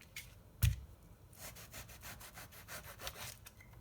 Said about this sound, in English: let me just keep cutting this around, and you can see I'm following the curve of the fruit